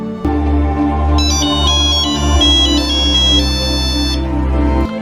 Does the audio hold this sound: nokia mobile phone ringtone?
yes